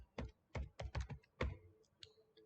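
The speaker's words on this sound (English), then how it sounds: "I'm going to type download Git." Keys tapped on a computer keyboard in short bursts of about six close, crisp clicks, with a couple of lighter taps after a pause; no talking.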